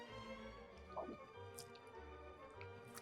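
Brush lathering Wholly Kaw La Superieure Dulci Tobacco shave cream in a bowl after a small splash of water, giving soft wet squishing and dripping sounds, quiet and close, with no talking.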